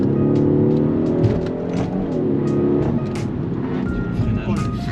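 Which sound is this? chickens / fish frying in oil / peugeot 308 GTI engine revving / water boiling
peugeot 308 GTI engine revving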